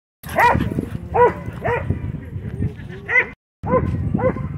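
A dog barks repeatedly at a dog park while chasing a kite, several sharp, close barks in an uneven rhythm with brief pauses between them.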